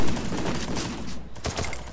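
Rapid gunfire from a multiplayer shooter video game rattles in a dense, loud burst that runs through the whole stretch, with a few sharper separate shots near the end and no talking.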